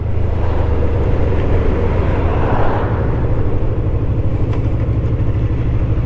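A Honda VFR800FE motorcycle engine roars loudly and continuously at high revs while riding, with wind rushing past the microphone.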